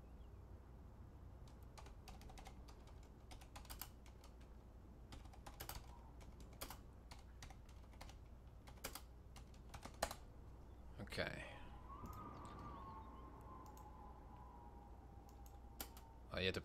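Keyboard keys are tapped repeatedly while a horror video game is played, giving crisp close clicks in irregular bursts over a quiet background with faint game sounds.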